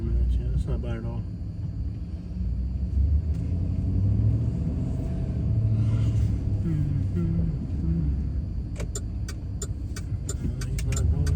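A truck rumbles along a road with a steady low engine drone and road noise, while people talk over it inside the cab.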